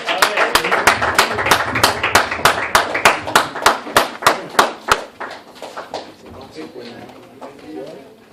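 Audience applause for a poet at a spoken-word performance night, close, loud rhythmic clapping in quick regular beats for about five seconds, then thinning into scattered claps and murmured voices.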